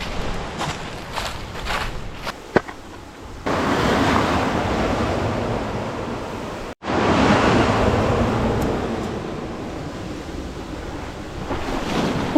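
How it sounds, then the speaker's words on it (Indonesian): Strong wind after rain roars across the microphone in broad gusts, with a brief break midway and a few faint knocks early on; no one speaks. "Efek hujan jadinya berangin."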